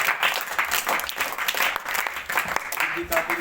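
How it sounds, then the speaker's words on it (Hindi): Applause from a group fills the whole stretch, a dense steady patter of clapping with some voices mixed underneath. "इसके लिए तालियां"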